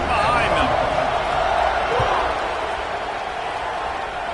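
A stadium crowd in an NCAA football video game roars steadily through a rivalry matchup between FSU and UF, a dense continuous cheer that fills the whole stretch, with a commentator's voice faintly mixed in.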